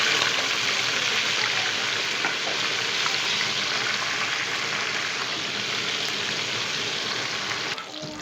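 Chicken tikka pieces fry in a hot pan with a dense, loud, continuous sizzle that holds steady throughout before cutting off abruptly near the end.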